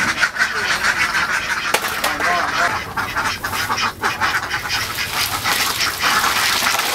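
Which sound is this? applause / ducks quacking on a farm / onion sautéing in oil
ducks quacking on a farm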